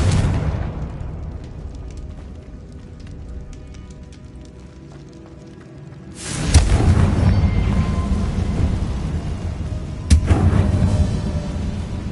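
A Bombarda blasting spell goes off in the Hogwarts Legacy video game, a sudden loud deep blast after a stretch of quieter ambience, with a second sharp burst a few seconds later.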